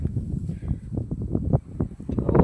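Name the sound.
strong wind outdoors on microphone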